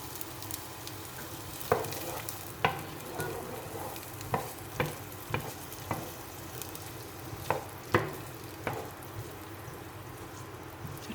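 Onions frying in melted fat in a pan for a lentil and cardamom soup, a steady close sizzle with a dozen or so sharp stirring clacks and scrapes spaced through it, no voices.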